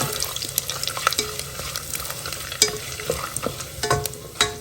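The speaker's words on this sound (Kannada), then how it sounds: "ಜಾಯಿಕಾಯಿ ಪತ್ರೆ ಪಲಾವ್ ಎಲೆ ಹಾಗೆ ಗೋಡಂಬಿ ಸೋಂಪು ಎಲ್ಲ ಸ್ವಲ್ಪ ಹುರ್ಕೊಳ್ಳೋಣ" Mace, bay leaf, cashews and fennel fry in a pan: close, crackling sizzle with busy, irregular scraping stirs and sharp little pops throughout, loud and uninterrupted, with no voices.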